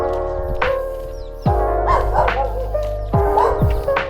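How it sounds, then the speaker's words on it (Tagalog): A dog barks on a forest trail during a 15K trail run, with several sharp barks spaced a second or more apart, fairly close, over steady outdoor background noise and no speech. "Ito na yung part kung saan may aso."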